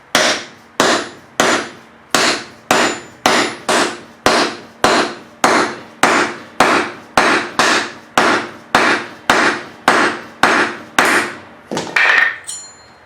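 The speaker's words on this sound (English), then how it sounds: "put our block of wood on top and hit it with a hammer" Steady, evenly spaced hammer blows on a wood block seating a front wheel bearing race on a Mercedes W123, about twenty sharp knocks in a regular rhythm, close and loud, ending with a brief scrape.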